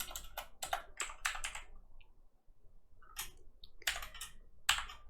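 Quick bursts of typing on a computer keyboard while entering Python code, crisp clattering keystrokes in short runs separated by a brief pause, close and clear with no talking.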